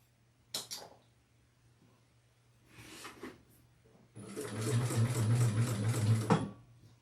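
A sewing machine stitches a quilt, first in two short bursts separated by pauses, then in a steady run of rapid mechanical clatter for about two seconds, close and clear with no talking.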